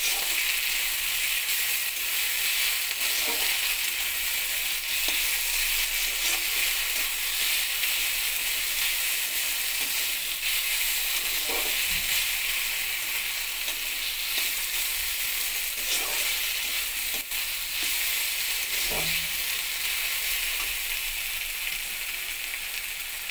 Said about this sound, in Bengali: আদা রসুন কাঁচা লঙ্কাটা দিয়ে আবারও ভেজে নেব।